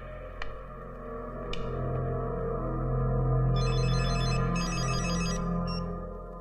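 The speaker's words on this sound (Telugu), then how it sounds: "అన్నా, ఫోన్ అన్నా." A telephone in a Telugu action film scene rings in two short bursts of rapid, trilling electronic tone over a loud, sustained background drone.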